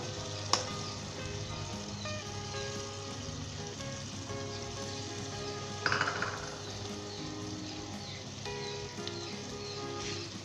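Tomatoes and fried onions sizzle steadily in an oil-filled pan as they are mixed together for kofta shorba, with a soft, continuous crackle broken by a couple of sharp utensil clinks.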